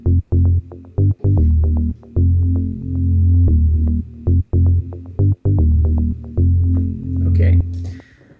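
Electronic bass line run through a delay effect in music production software, a steady throbbing run of repeated low notes with short gaps and echoing tails, loud and up close.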